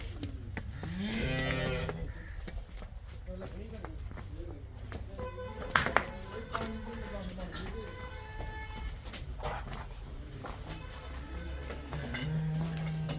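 Cows, including a Jersey heifer, moo several times, long deep calls with rising harmonics, one near and loud, others farther off, over a low background hum.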